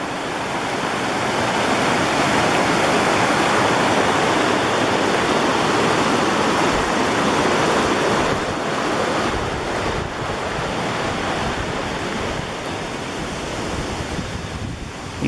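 North Cottonwood Creek rushes beneath a trail bridge in a steady, loud broadband roar of flowing water that holds constant throughout, with some wind buffeting and no voices.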